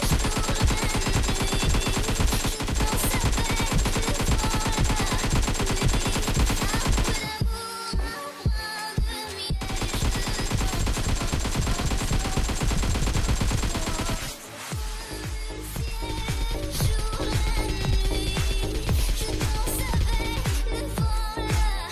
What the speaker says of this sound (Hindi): फायरिंग करो, स्टार्ट